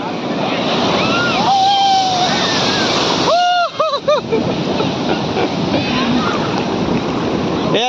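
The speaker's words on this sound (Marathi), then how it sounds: "मोठी लाट आली बघ" Big ocean waves roll in at Nagaon beach, a loud continuous roar of surf with wind buffeting close to the microphone, while people shout and talk excitedly over it.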